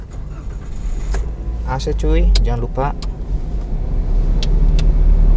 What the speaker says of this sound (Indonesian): Oke, kita nyalain dulu mobilnya.